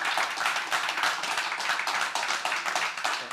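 A conference audience applauds a panel, a dense patter of many hands clapping steadily at moderate distance with no talking over it.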